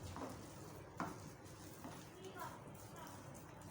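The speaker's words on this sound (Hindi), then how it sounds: "मुसलसल हिलाते जाएं, आपने हाथ बिल्कुल भी नहीं रोकना अपना।" Besan (gram flour) being stirred continuously in ghee in a pan for halwa, a soft steady scraping and shuffling texture with a faint sizzle, fairly quiet and close throughout.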